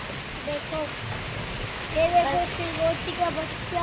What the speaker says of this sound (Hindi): कितना जोर से बारिश चालू है।